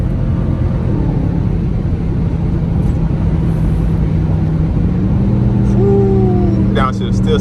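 A 2021 Dodge Durango R/T with the 5.7 V8 and straight-pipe exhaust drives at night, giving a loud, steady engine drone from inside the cabin, with a rising-then-falling pitch sweep near the end as it downshifts.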